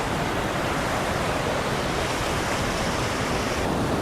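The Jhalong river rushing past a bathing spot, a steady, loud, broadband roar of flowing water with no pauses and nothing else heard over it.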